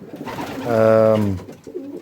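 Pigeons cooing inside an allotment loft holding around thirty birds, a single drawn-out throaty coo swelling in the middle, close and fairly loud, with faint rustling around it and no talk.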